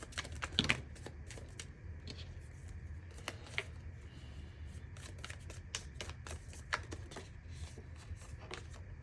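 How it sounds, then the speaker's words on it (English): Tarot cards being shuffled by hand in a quiet room, a steady run of soft riffling slaps and flicks with brief louder bursts, close and alone with no talking. "We'll do a couple more shuffles."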